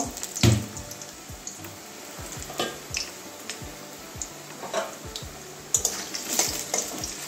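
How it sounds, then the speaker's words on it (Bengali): Potato pieces fry in oil with a steady crackling sizzle and repeated scrapes and knocks of a spatula stirring them in the pan, close and moderate in level. "ওই তেলের মধ্যেই আমি আলু কোটা ভেজে নেব।"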